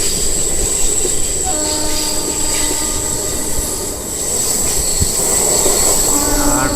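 MEMU passenger train running round a curve between Secunderabad and Warangal, heard from inside as a loud, steady rumble with high metallic wheel squeal and faint whining tones throughout.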